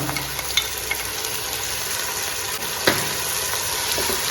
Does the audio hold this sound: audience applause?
no